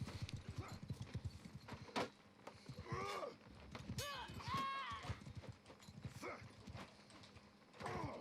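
Horse hooves clip-clop quickly and rhythmically in Mount & Blade II: Bannerlord during a dueling championship, with whinnies and clanking gear mixed in and faint voices underneath.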